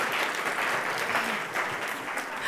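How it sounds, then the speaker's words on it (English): A live audience gives a steady round of applause to welcome a volunteer, keeping an even, dense level from start to finish. "Let's give her a round of applause for being brave."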